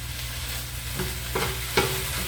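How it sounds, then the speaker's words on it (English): Spinach frying in a pan for a healthy omelette, a steady soft sizzle with a few brief stirring scrapes of a utensil against the pan, close and alone. "So you can see the spinach is cooking nicely there"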